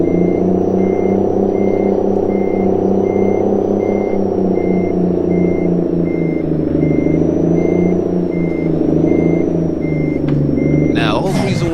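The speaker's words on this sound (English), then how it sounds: "I'm going through all this trouble just to back up this truck" A Kenworth K100 semi truck in American Truck Simulator backs up, its reversing alarm beeping in a loud, even rhythm over the low drone of the idling engine, with a sharper noise right at the end.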